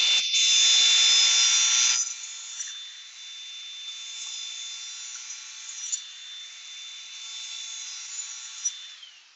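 A Honda lawnmower blade is sharpened with a power tool: two seconds of loud, harsh grinding, then a steady high whine with small scraping touches as the tool keeps running.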